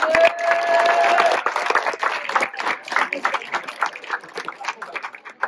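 Audience applause for a jury member at a school slam tournament, brisk clapping that swells then thins into scattered claps, with voices talking over it.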